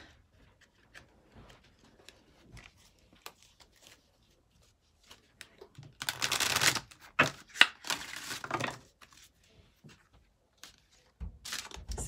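Slippery tarot cards being shuffled, a dense burst of riffling and slapping noise in the middle, with scattered softer card handling before and after.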